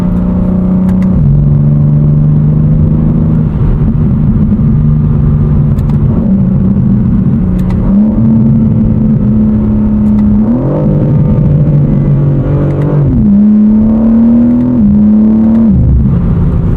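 A BMW engine on cup tires revs steadily at close range, its pitch rising and falling through the rev range with several sharp climbs, loud and continuous with no talking.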